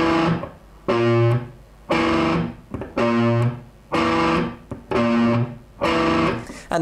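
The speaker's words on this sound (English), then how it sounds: "The only thing we're doing is plucking the 6th string and then plucking the 5th and the 4th string." Electric guitar riff, the 6th string plucked and then the 5th and 4th over a held chord shape: short distorted bursts repeating in a steady rhythm, cut off abruptly between phrases, loud and close.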